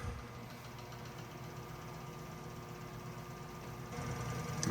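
A rare 1948 Keller Super Chief engine spins up on a machine-shop test rig, a quiet steady mechanical hum and rattle that swells slightly toward the end.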